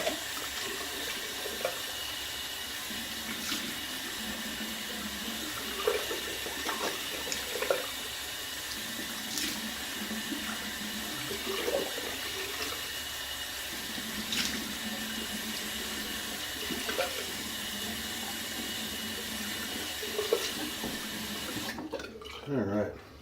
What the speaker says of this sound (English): Cold water, here it comes.